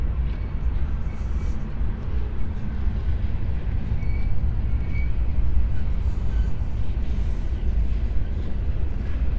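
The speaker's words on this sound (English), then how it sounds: "It's a very long train" A very long freight train, probably hauling potash, rolls past steadily in Regina, Saskatchewan, a continuous low rumble and rattle of wagons that holds fairly close and loud throughout.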